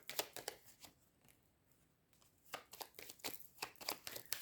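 Tarot cards laid down one after another on a table during a reading, giving soft, quick papery snaps and slides in clusters, with a quieter pause in the middle before the card sounds pick up again.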